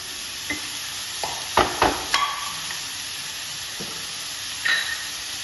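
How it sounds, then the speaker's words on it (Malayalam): Green chillies and salt are stirred in a pan while being sautéed, with a few distinct scraping clatters and clicks of the spoon over a steady low sizzle, nearby and moderately loud with no talking. "എല്ലാം കൂടി ഒന്ന് നല്ലോണം ഒന്ന് വഴറ്റിയെടുക്കാം"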